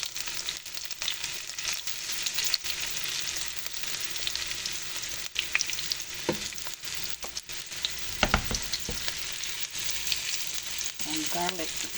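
Chopped onion and garlic powder sizzling steadily in a hot pan for a curried tofu, with a few louder stirring scrapes and clatters near the end, close and continuous with no talk.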